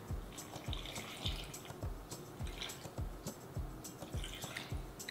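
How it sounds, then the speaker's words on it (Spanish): Water poured into a blender jar while making salsa verde, a soft, close trickle with a steady pulsing rhythm of small drips and splashes, fairly faint and with no talking. "Vamos a poner agua."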